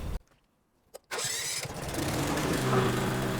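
A pressure washer with a Honda engine cranks with a short pull after near silence, then fires and settles into a loud, steady running drone close by.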